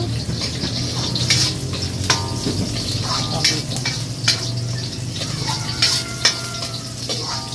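Ingredients sautéing in a pan for binignit, a steady sizzle under a low background hum, broken by repeated scraping clinks of a utensil stirring against the pan.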